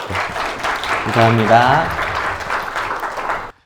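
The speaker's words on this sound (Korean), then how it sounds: "우리 한번 박수 한번 해주시고요" A seated audience at a Korean church lecture claps throughout while someone speaks over the applause, which stays steady until it cuts off abruptly near the end.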